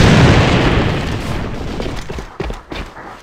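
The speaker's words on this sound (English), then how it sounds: "Enemy grenade!" An enemy grenade detonates in the online shooter AvA, a loud close boom at the start that rumbles and decays, followed by a few sharp distant pops or shots.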